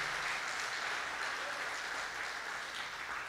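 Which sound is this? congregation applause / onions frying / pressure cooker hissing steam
congregation applause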